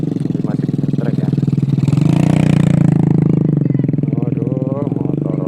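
A motorcycle taxi engine putters loudly nearby beside a large river, with a rapid pulsing rhythm, rising briefly as it revs, while a voice talks over it.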